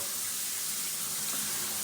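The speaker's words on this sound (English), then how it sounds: "And then return back to home, we have the traditional shower." Delta shower on its traditional spray setting sends a steady, even hiss of running water throughout, fairly soft and with no voices.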